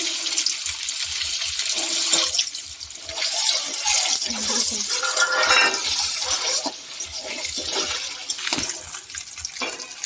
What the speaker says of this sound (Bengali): ভেজে নিচ্ছি ডিমটা